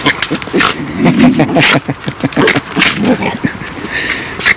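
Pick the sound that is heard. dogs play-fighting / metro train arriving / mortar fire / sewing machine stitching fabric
dogs play-fighting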